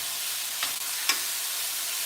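Steady close sizzle of steak frying in a pan for a Philly cheesesteak, with a couple of brief scrapes as the meat is stirred.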